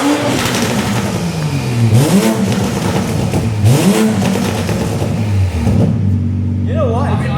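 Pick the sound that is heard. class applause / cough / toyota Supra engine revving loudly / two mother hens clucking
toyota Supra engine revving loudly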